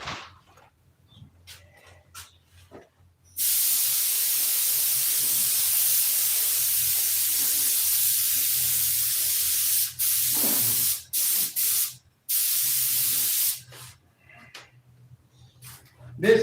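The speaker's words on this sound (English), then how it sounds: "This coat of paint here was basically just to get the cockpit white so I could glue the canopy on at home" Spray paint hisses steadily for about ten seconds onto a model aircraft cockpit, coating it white, with a couple of short breaks and brief bursts before and after against a quiet room.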